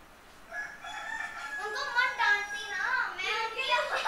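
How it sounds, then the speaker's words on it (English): Minecraft chickens crowing and clucking in a steady, overlapping run of bright, wavering calls that gets busier and louder partway through and holds close and clear from start to finish. "Just listen to my chickens."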